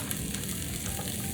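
Broccoli sizzles in hot oil in a pan, a steady, dense crackle and hiss filling the short stretch without any talk.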